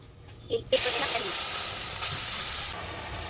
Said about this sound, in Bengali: কড়ায় তেল দিয়ে দিলাম, জিরে ফোড়ন, জিরে ধনে আর লঙ্কার গুঁড়ো মেশানো।